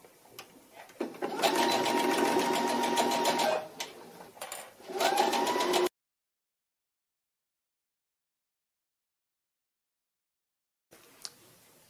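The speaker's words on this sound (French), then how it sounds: "Coudre les côtés à 1 cm du bord." A sewing machine runs a steady, fast whirring stitch along the side seams of a party dress, in two close bursts separated by a short pause, followed by silence and a faint resumption.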